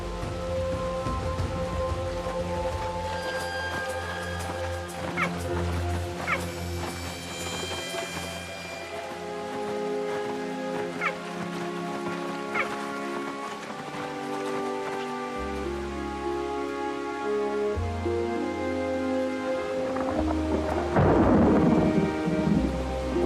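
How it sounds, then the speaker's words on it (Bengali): A rainstorm with thunder and stormy wind on a wildlife reserve: steady rain noise and gusting wind, with rolling thunder rumbling low and a louder crack near the end. "ঝোড়ো হাওয়া আর বৃষ্টির জন্য শব্দ আর গন্ধ সবই অস্পষ্ট"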